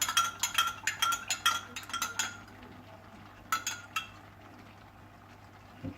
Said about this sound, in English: So give that a bit of a mix, which I'm sure is going to be a lovely sound on the video.